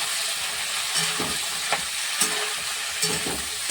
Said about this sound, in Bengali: পেঁয়াজ কালিটা দিয়ে দিলাম পেঁয়াজ কালিটা আমি দিয়ে দিলাম